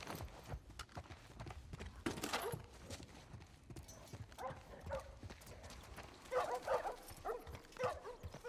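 Dogs bark and yip in The Last of Us Part 1, scattered sharp barks in bursts over game ambience and footsteps, moderately distant, with no speech.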